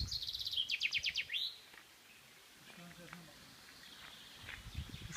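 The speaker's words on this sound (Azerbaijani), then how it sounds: "Quşların səsi, səhər tezdən cıskıltısı," Birds chirp in the early morning at a campsite, starting with a quick run of bright, close tweets over a soft rustle, then thinning to faint distant calls and light ambient noise.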